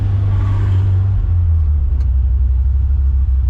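A manual Ferrari 348 cruises in third gear at about 3,000 RPM with a deep, steady engine drone and low rumble close inside the car. No voices can be heard.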